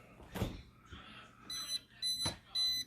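Short electronic beeps sound in a few bursts from the alarm of a stainless steel Frigidaire refrigerator with an ice maker, its fridge side running hot, mixed with soft thumps and handling noise, moderately quiet.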